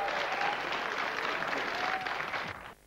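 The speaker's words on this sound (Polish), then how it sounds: "Brawa dla nich jeszcze raz za to." A studio audience at a TV quiz show claps in a dense, even burst of applause that runs for a few seconds and then cuts off abruptly.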